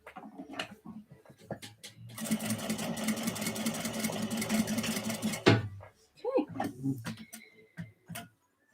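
A sewing machine stitches through a sand dollar sewing project in a continuous whirring run of a few seconds, with short bursts before and after and someone talking nearby in between.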